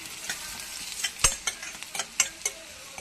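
Crushed garlic fries in a pan with a soft, continuous sizzle for vendakkai porial, punctuated by a few sharp scrapes and clinks of a spoon stirring, close and fairly quiet.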